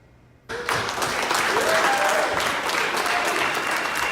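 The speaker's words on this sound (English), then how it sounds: "That's workers cheering after signing tentative agreements with Fremont and Main Street casinos." Culinary Union workers cheer and applaud loudly after signing tentative agreements with the Fremont and Main Street casinos in Las Vegas, a sustained burst of crowd clapping and shouting that erupts after a brief quiet start.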